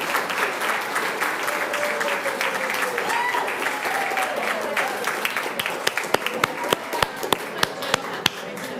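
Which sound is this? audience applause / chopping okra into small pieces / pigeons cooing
audience applause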